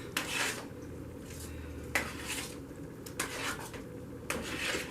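Potato cake batter with a little over half a cup of milk stirred in a bowl, a utensil scraping and clinking against the sides in repeated strokes, close and fairly quiet.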